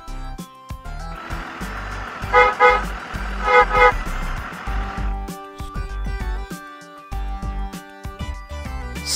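A bus engine runs close with a low rumble, and two short horn blasts sound in the middle, followed by irregular mechanical knocks as the engine idles on.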